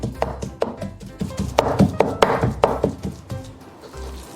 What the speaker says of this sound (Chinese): 然后再给它剁成肉末